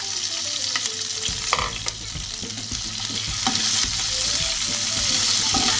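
Capsicum and onion cut into square pieces fry loudly for Patiala chicken, with a constant crackling sizzle and repeated knocks and scrapes of a spoon stirring the pan.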